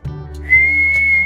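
A short, clear whistle rises and then holds a steady high pitch, loud and close, over a low background hum.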